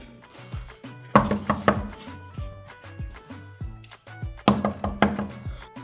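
Knocking on a house door, with clusters of sharp raps arriving in two bursts amid low background sound and voices.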